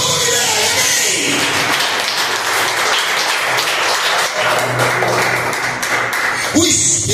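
A church congregation at a Baptist service applauds in a dense, sustained wash of clapping that fills the room, then tapers off near the end with a few voices.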